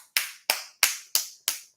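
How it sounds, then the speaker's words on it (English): Five separate claps ring out at a slow, even pace, each crisp and quite close, with silence between them and no talk. "I want to give her a round of applause."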